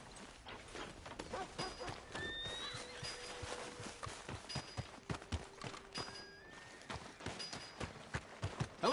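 Horse hooves clip-clop at a walking pace in Red Dead Redemption 2, with a short neigh over steady background game ambience; the steps are moderately close and irregular, and there is no talk.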